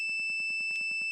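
A steady, high-pitched multimeter continuity tone drones without a break, with a rapid rhythmic pulsing beneath it. No one speaks.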